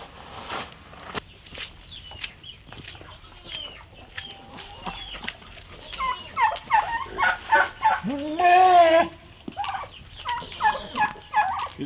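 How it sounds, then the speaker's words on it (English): Farm turkeys gobble in repeated bursts, close and loud in the later half, with scattered clucks and footsteps on the ground between calls. "These are our big beautiful turkeys."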